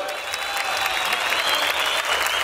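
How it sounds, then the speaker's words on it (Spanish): A rodeo crowd at Rancho La Candelaria gives a sustained round of applause, a thick continuous wash of clapping from many hands with faint shouts and cheers mixed in. "A ver, el aplauso, por favor."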